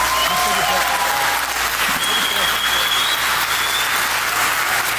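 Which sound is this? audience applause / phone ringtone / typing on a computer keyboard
audience applause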